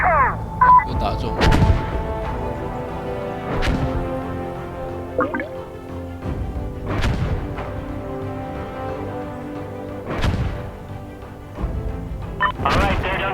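Enemy gunfire in the tactical shooter Insurgency Sandstorm, heard as several sharp, spaced-out shots and booms over a few seconds, some distant and echoing, amid steady game ambience and occasional voices.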